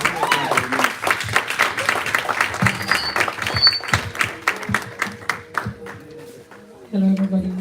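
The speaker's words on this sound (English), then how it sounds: "Please get some clapping." An audience claps and applauds at a book launch event, a dense uneven burst of hands that thins toward the end before a voice begins speaking close to the microphone.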